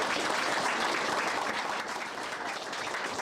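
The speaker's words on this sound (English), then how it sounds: "Let's give her a round of applause." An audience at a school board meeting applauds a student with a dense, sustained round of clapping that stays loud throughout with only a slight fade, and no voices rise above it.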